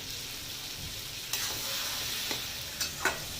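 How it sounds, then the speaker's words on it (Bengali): Ash gourd pieces with spices frying in a pan while being stirred, a steady soft sizzle with a few sharper scraping stirs of the spoon toward the end, close and fairly quiet. "এটা ভাজা ভাজা হয়ে গেছে, কষানোটা হচ্ছে"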